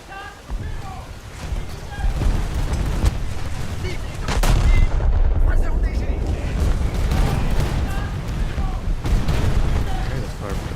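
Heavy battleship gunfire in a naval video game, deep booming salvos and sustained rumbling barrages with a big blast near the middle, while a voice talks over the din.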